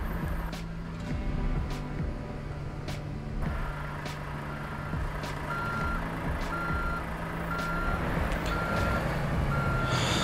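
Truck reversing beeps in Euro Truck Simulator 2, a steady run of evenly spaced electronic beeps sounding over a continuous low engine drone and background rumble.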